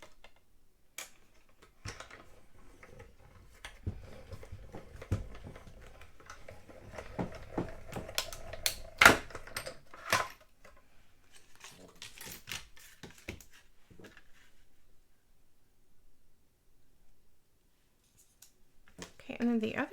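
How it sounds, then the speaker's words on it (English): Crisp snips and clicks as paper is cut for a Stampin' Up handmade card, scattered close snipping sounds across a quiet workspace, with someone speaking at times. "I'm going to cut some of this off anyway."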